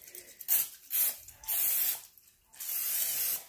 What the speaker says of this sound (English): So, we're going to spray a little bit of